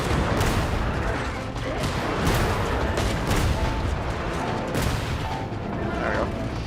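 Repeated cannon blasts in the video game Genshin Impact (version 6.1, Luna II Act 3), dense booms and gunfire-like cracks layered continuously and loudly, with a voice partly speaking underneath.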